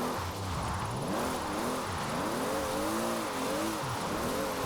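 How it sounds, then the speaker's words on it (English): A Toyota Supra drift car in Forza Horizon 4, driven on a wet, rainy downhill road, its engine droning steadily and rising and falling in pitch as it revs through slides, loud and continuous with no talk. "The Supra is a very, very capable drift car."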